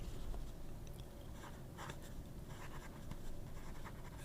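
A pen nib running out of ink scratches across paper, giving a faint, continuous dry scraping with small strokes, close up and alone over a low background hiss.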